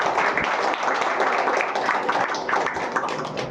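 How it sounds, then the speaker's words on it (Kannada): A church congregation clapping hard together, a dense continuous patter of many hands that fills the whole moment, fairly close. "ಒಂದ್ಸತಿ ಜೋರ ಚಪ್ಪಾಳೆ ತಟ್ಟ"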